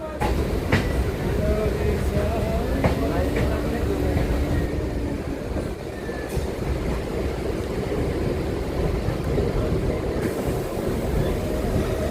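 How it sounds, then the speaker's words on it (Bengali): A MEMU passenger train pulls out of a station on the Rampurhat to Jasidih line in light rain, its steady rumble and wheel noise heard from onboard, with a few faint clanks and occasional voices. "তো এবার ট্রেন আমাদের ছাড়লো"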